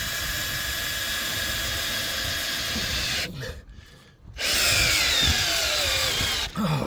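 A battery drill drives bolts into hard timber for a shipping container roof, a steady loud whirring motor that stops briefly, then resumes with straining pitch shifts.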